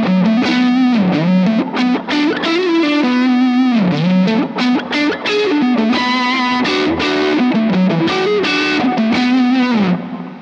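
An electric guitar through a Hot Cake overdrive pedal with a thick, fuzz-like tone, playing a dense, continuous riff of chugging notes and bends, loud and close throughout with no voices.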